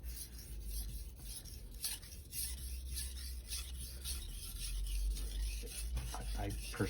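A knife blade rasps across a Naniwa 1000/3000 grit combo whetstone in repeated, faint scraping strokes, with no talk over it.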